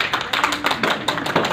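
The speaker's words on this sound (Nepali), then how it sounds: "ताली दिन कन्जुस चाहिँ नगरौँ होला।" Brief burst of applause from an audience at a premiere show for a Japanese music video, with quick overlapping claps at close range and no talk.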